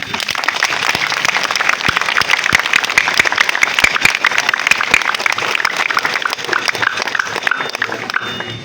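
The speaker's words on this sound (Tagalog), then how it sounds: "ay pumalakpak tayo lahat." A church congregation claps during an Easter celebration, with loud, dense, sustained applause filling the whole stretch.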